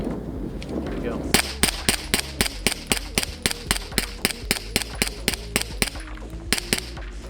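Suppressed rifle shots from a Flux Raider fitted with a titanium 3D-printed suppressor, fired as a rapid steady string of about twenty sharp, loud reports at an outdoor range, the first few preceded by a low rumble.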